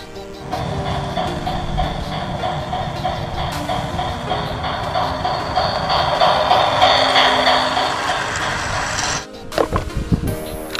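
A toy train runs with a steady mechanical whir and faint clicking from its motor, close by, before stopping abruptly and giving way to a few short knocks and rattles.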